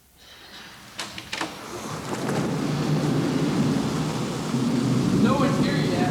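Steady rain hisses and builds, with a low rumble of thunder and a few sharp knocks early on.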